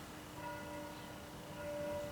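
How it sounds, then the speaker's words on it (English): Church bells ring at an abbey at noon, heard as faint, distant sustained tones over a steady low background hum. "can you hear the bells? That's over at the Abbey, so that means it is noon"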